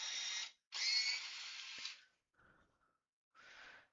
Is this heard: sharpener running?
yes